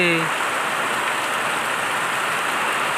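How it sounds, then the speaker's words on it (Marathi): Heavy monsoon downpour in Konkan, a loud, dense, steady hiss of rain pounding surfaces nearby, continuous throughout, with a brief tonal sound at the very start. "बघा आला पाऊस जोराचा पाऊस आहे"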